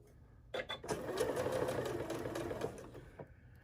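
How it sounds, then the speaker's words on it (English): A sewing machine starts with a few clicks, then stitches in a fast, steady mechanical whir for a couple of seconds before slowing and stopping. "here we are back at the sewing machine"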